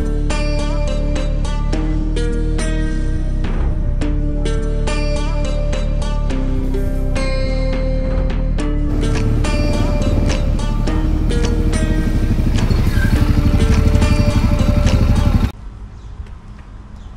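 A Suzuki DRZ-400SM single-cylinder motorcycle runs close by, its engine note pulsing in a steady idle, then rising in revs and blipped throttle before cutting off near the end.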